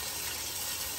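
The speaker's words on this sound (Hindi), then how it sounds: "बस इसे मिक्स करके अब इसमें पानी शामिल करूँगी" Water gushes steadily into a pot of coconut fish curry, a continuous hissing pour that stays even and close for the whole moment.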